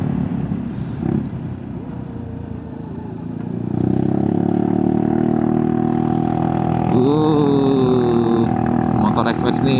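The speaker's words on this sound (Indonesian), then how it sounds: "Motor X-Max nih ngeden juga ya." A Yamaha XMAX scooter engine strains up a road near Ciwidey, a low steady drone that swells louder partway through and holds, with brief rising whine near the end; no talk over it.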